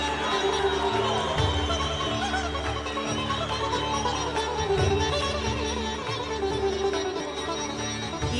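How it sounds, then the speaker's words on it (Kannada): Crowd cheering and clapping at the Karnataka swearing-in ceremony for the Chief Minister, a dense, steady roar of applause and voices filling the hall throughout, with low rumbling beneath. "ಚಪ್ಪಾಳೆಯೊಂದಿಗೆ"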